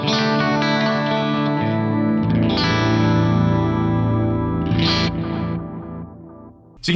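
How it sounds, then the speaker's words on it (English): Distorted electric guitar chords ring through a Digitech Timebender delay pedal set to variable speed tape mode, each attack echoing in wavering, slightly bright repeats, steady and loud before fading near the end as a new strum begins. "So you can hear the variable speed delay there."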